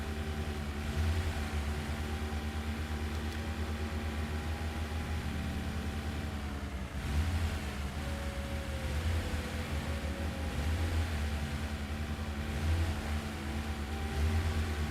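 Steady, droning truck engine in SnowRunner, a constant low hum with whining tonal overtones that persists evenly throughout, moderately loud with no speech.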